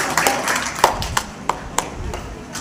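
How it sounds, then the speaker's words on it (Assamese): Scattered hand claps for Team C at a quiz programme, a handful of sharp separate slaps spaced irregularly over a murmuring room rather than a full burst of applause. "হাত চাপৰি হ'ব লাগে টিম সি"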